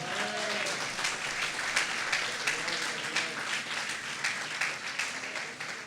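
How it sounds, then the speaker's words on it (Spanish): A church congregation applauds in a steady wash of many hands clapping, loud and sustained for several seconds, with a faint voice briefly audible at the start. "Dale un aplauso a Dios por eso"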